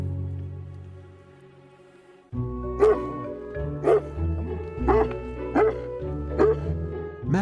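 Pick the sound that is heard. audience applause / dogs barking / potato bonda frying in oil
dogs barking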